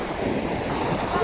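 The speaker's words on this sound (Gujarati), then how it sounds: "આવ્યું મોજું" Sea waves break on a beach in a continuous loud wash of surf, with wind buffeting the microphone, over a brief stretch with no clear talk.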